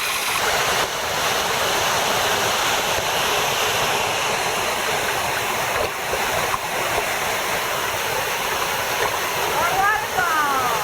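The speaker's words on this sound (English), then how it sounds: "waterfalls all over this place" Steady broadband rush of a resort pool waterfall in the Riviera Maya, continuous and close, with a faint voice briefly audible near the end.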